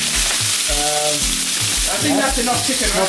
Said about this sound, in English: It's frying. You could hear the sizzle